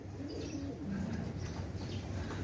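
Pigeons of a fancy breed, among them Pakistani Teddy, coo softly in low, brief calls against a steady background hiss.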